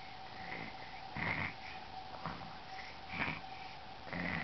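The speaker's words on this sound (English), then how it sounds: "He snores." A young boy snores while asleep, with soft rhythmic breathing and snorting bursts repeating roughly every two seconds, faint and close.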